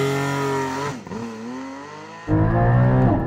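A 2021 Porsche Cayman GT4 with a PDK gearbox launches at full throttle, the engine held high on the revs, dipping briefly, then surging loudly again as it pulls away, close and dominant.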